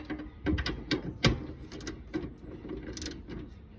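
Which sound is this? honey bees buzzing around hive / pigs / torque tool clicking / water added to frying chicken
torque tool clicking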